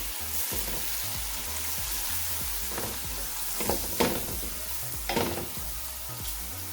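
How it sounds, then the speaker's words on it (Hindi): Spices for chicken tikka masala roast in a hot pan with a steady close sizzle, broken by a few scraping stirs of the spoon, with no talk over it. "जो हमारे स्पाइसेस हैं हम इसमें ऐड कर देंगे। 1 मिनट की हम इनको भून लेंगे अच्छी तरीके से"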